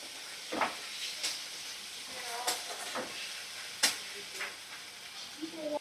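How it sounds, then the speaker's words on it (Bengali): Spice paste and chopped tomato for egg biryani fry in a pan with a low, steady sizzle, punctuated by soft scraping stirs at irregular intervals, fairly quiet throughout. "মশলাটা ভালো করে কষিয়ে নেব।"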